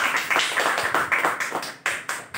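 A church congregation at a Friday night service claps in loud, uneven bursts of a few seconds each, with sharp hand strikes rising and falling and no talk.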